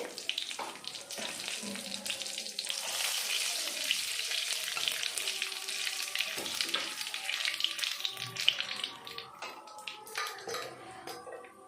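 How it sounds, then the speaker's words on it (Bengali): A dried red chili and nigella seeds fry in hot oil, giving a steady crackling sizzle with stirring sounds, close and moderately loud, with brief talk now and then. "ফোড়নে দিয়ে দেবো একটা শুকনো লঙ্কা কালো জিরে"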